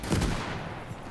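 A 37 mm high-explosive shell fired in the Gates of Hell war game, heard as a short, heavy burst at the start that decays quickly into a rumbling tail.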